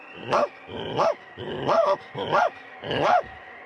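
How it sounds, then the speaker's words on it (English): Scooby-Doo, a cartoon dog, giving five loud, evenly spaced barking yelps that rise and fall with a whining, growly tone, heard alone and close. "Stop all that barking and running back and forth."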